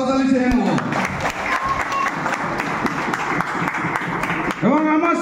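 Applause from an audience at a gathering, honouring Nandadulal Haldar, sustained clapping filling the middle of the moment with a speaker's voice at the start and end.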